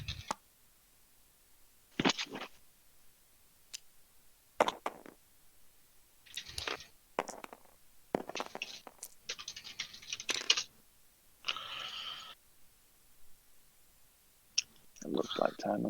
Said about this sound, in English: Someone's typing away, I can hear him.